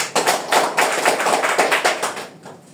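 Audience at a DXN business talk clapping in unison, a brisk rhythmic burst of hand claps close and loud for under three seconds before trailing off, no talk.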